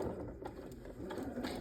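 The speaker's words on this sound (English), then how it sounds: "I'm working with a straight stitch, and I'm using a 2mm stitch length. I'm going to take my seam all the way along" A sewing machine runs a straight stitch at 2mm length with 50 weight thread along a quilt block seam, a steady, soft mechanical whir and patter that continues throughout.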